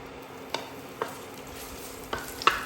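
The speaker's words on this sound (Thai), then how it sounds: "ใส่หอมแดงก่อน นี่หอมแดงครับที่หั่นไว้เมื่อกี้" Sliced shallots frying in hot oil in a pan for a simple home-style omelette, a quiet steady sizzle with a few soft scraping stirs at intervals, close up and with no talking.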